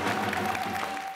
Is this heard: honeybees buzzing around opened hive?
no